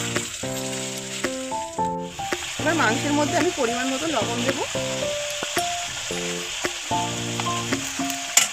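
Chicken meat fries in a pan with onion and garlic, a continuous sizzle with stirring scrapes running beneath a person talking.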